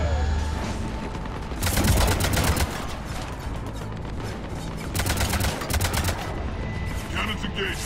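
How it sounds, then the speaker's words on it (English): Cannons firing in a video game battle at a bunker, bursts of rapid booming shots in two heavy volleys over constant loud rumbling combat noise. "Cannons engaged."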